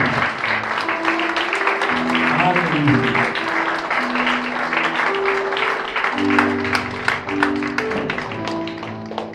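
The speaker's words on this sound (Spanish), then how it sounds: "Dale un fuerte aplauso al Señor." A church congregation claps in loud sustained applause during a service on the Lord's Supper, with voices calling out and sung tones mixed in over the clapping.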